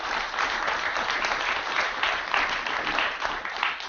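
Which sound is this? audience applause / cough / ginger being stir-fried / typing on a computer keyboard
audience applause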